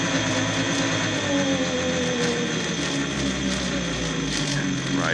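A brushless DC motor from a Corbin Sparrow electric car spins up under throttle and speed control, giving a steady mechanical whir with shifting whining tones and ratchety gear noise, loud and close with no talk.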